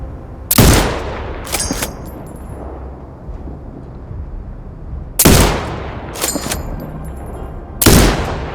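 Sniper rifle shots in Sniper Ghost Warrior Contracts 2, three loud, sharp cracks spaced seconds apart, each followed by a short rolling echo and a mechanical bolt clack.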